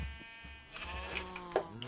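Sheep bleat in the Minecraft video game, a couple of short nasal bleats heard fairly close amid faint background game sounds, with no talking.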